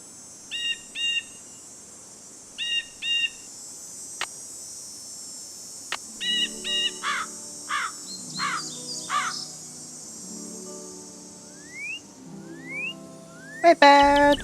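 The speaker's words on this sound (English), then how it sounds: "Wait, bird." Bird calls in the Nancy Drew: Ghost Dogs of Moon Lake video game: clear paired chirps in repeated bursts, then raspy cawing notes and quick rising whistles, heard alone with no talking.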